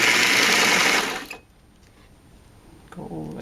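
A sewing machine stitches a tunic sleeve seam with an underarm gusset, running in a loud steady whir for about a second before it stops. A quiet voice follows near the end.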